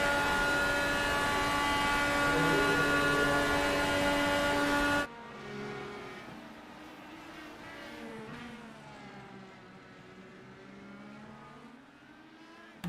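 Race cars in the Area 51 Racing Series scream with a loud, steady high-pitched engine drone, then drop abruptly to a quieter, wavering note as they brake into turn one.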